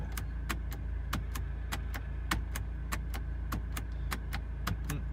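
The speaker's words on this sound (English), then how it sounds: "Headlights go up and the headlights have trouble going down." A small electric motor whirs steadily while sharp, regular clicks repeat about three times a second, fairly quiet with no talking: a car's pop-up headlight motor, the headlights having trouble going down.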